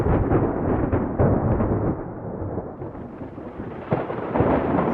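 Thunder rolls through a storm in a kids' fire truck cartoon, a loud continuous rumbling roar that swells and eases over several seconds, with no speech.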